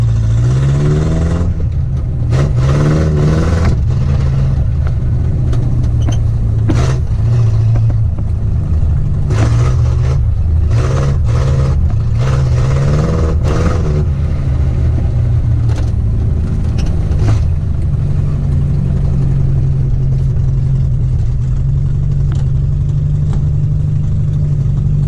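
A Datsun 1500 ute engine runs close by, a steady low idle broken by several sharp revs that rise and fall in bursts before settling back to a loud, even rumble.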